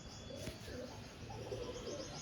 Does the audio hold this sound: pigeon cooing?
yes